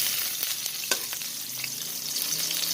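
Chicken marinated in salt and pepper sautéing in a pan for pancit canton, a steady close sizzle and frying hiss with occasional stirring clicks, no talk.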